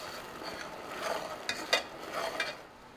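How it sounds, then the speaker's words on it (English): Onion, celery, pepper and salt stirred in butter, giving a soft sizzle with a few scraping spoon strokes near the middle, close and moderately quiet. "We're going to stir all that together."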